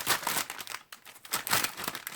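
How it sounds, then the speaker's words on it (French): Plastic packaging of diamond art supplies crinkles and tears close up in a steady run of crisp rustling bursts with a brief pause midway, heard alone without talk. "Alors, je vais déballer ça."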